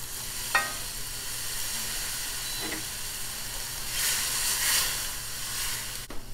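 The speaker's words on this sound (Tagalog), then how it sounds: "Hayaan nyo siyang kumulo." Salmon sauté liquid with lemon juice and a cup of water simmering in a pan, a steady hiss with brief sizzling bursts and a louder stretch of steam partway through.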